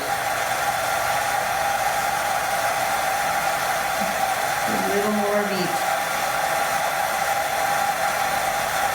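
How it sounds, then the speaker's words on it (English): A blow dryer runs steadily at close range, a constant loud whooshing hum throughout, while a person speaks briefly over it. "I'm going to re-angle my blow dryer"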